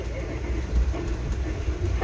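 The Amtrak Pennsylvanian train rides the rails toward Philadelphia's 30th Street Station with a steady low rumble and soft clunks from the wheels, heard from inside the car with no voices.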